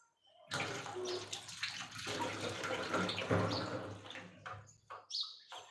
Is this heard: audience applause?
no